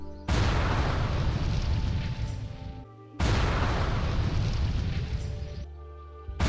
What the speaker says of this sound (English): Oh, yeah! Explosions!